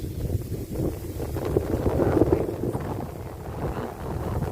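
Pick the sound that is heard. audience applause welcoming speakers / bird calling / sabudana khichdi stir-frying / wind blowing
wind blowing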